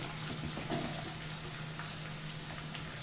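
Broad beans frying with cumin in a pan for a chutney, giving a faint, steady, soft sizzle with light crackles throughout and no talking.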